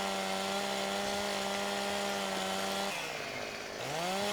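A virtual chainsaw in Farming Simulator 15 drones steadily while delimbing a tree, its tone dipping briefly near the end before picking back up, continuous and fairly loud throughout.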